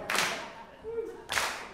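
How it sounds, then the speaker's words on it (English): Brief bursts of audience clapping along at a live music show, two sharp clusters of claps separated by a short pause with a faint voice between them. "And get this clap going just like that."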